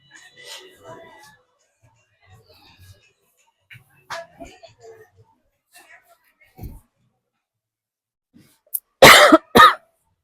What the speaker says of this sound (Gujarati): શૂઝ ચપ્પલ એરિયામાં આવીને તો ઉધરસ ઉપડી ગઈ છું